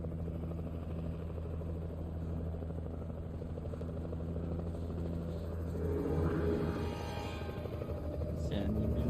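A helicopter in the Alan Wake Remastered video game churns with a constant heavy rotor drone that thickens toward the end, while a player talks over it.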